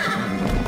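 A horse in the video game Pumpkin Jack gives a short, close neigh lasting under a second, its whinny riding over game background noise during a race.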